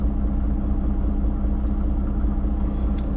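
A truck engine idles steadily just after start-up, a continuous low rumble with an even throb that holds unchanged throughout, close and fairly loud with no talk over it.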